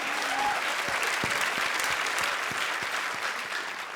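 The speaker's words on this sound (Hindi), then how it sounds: "एक बार तालियां।" A studio audience at a TV comedy show claps steadily and loudly throughout, with dense applause filling the whole stretch and a few sharper hand claps standing out.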